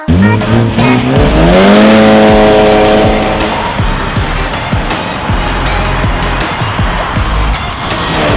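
A Ford Focus ST on its stock exhaust revs hard, the pitch sweeping up and falling back before settling into a loud, choppy run of engine pulses and crackles, close and without talk.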